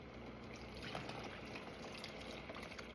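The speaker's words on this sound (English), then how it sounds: "And I'm also gonna add a cup and a half of water." A cup and a half of water pours into a pot while cooking a Filipino dish, a continuous near trickling splash without speech.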